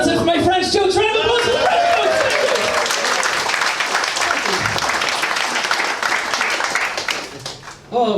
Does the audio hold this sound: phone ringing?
no